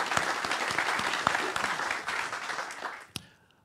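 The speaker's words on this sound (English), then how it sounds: "How about a round of applause for that?" An audience at a gaming fan festival applauds with lively clapping and a few sharp claps, fading out near the end before a last loud clap and quiet.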